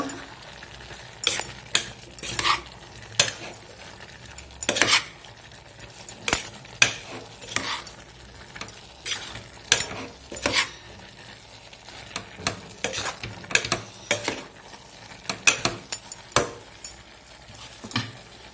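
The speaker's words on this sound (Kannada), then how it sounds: "ಇದೆಲ್ಲ ಮಿಕ್ಸ್ ಮಾಡ್ಕೋತೀನಿ ಇವಾಗ." Chopped mixed vegetables and tomato are stirred in a pressure cooker pot for a palya, with repeated sharp scrapes and clinks of the spoon over a soft, continuous sizzle.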